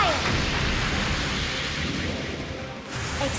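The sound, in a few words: artillery fire from a mech in the video game Trails of Cold Steel 4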